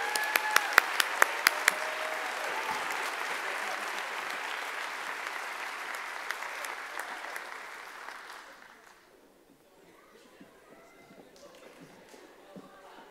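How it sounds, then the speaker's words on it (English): Applause at a staff meeting fills the room, a dense wash of many hands with some sharp nearby claps early on, fading out after about eight seconds into quiet murmuring and scattered rustles. "give them all one more round of applause and we'll move on."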